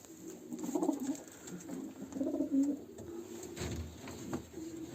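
Pigeons in a loft, among them a smoky grey female and a grey male with their grown chicks, coo in low, soft rolling phrases a few times, close but quiet over faint background noise.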